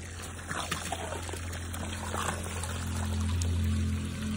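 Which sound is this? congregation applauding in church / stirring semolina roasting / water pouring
water pouring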